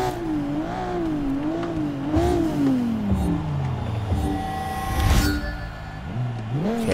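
Race car in a driving video game played with a Logitech wheel and shifter, engine revving and launching off the line with a warbling rising and falling whine, climbing through gears, a sharp burst near the end.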